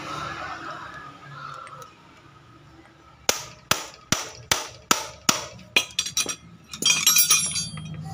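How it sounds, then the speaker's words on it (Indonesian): A metal bolt on an engine head is struck by a hammer about ten times in a quickening series of sharp, close metallic clinks, after a quieter stretch of faint handling noise. "boleh kita pukul karena baut di sini memang harus kita pukul baru dia kuat"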